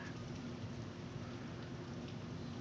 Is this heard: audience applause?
no